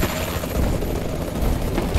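Warbird gunship in the game Call of Duty: Advanced Warfare, a loud, dense rotor roar mixed with a continuous rattle of gunfire throughout a Domination match on the Detroit map.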